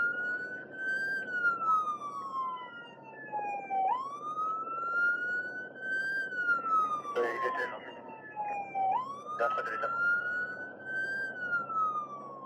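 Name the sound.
firefighters sounding a deafening siren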